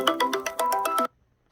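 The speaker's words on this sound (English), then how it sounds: "I thought I put my phone on Do Not Disturb. We got a call coming in." A phone ringtone chimes in a quick melodic run of bright repeated tones for about a second, then cuts off into silence, sounding alone with no talk.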